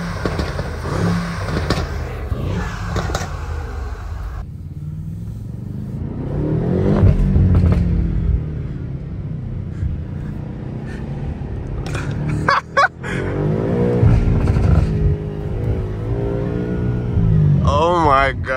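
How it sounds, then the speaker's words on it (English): A BMW M8 Competition is driven at night in Toronto, its engine revving and rising in pitch in a couple of surges, heard from inside the car beneath someone talking over it. "So hopefully you guys could listen to the car, how it sounds now"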